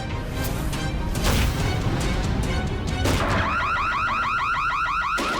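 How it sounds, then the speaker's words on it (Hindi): Heavy crashing thuds of a door being smashed open, several loud impacts in quick succession, followed by a wailing, warbling burglar alarm that sounds repeatedly over the noise. "तोड़ दो दरवाजा।"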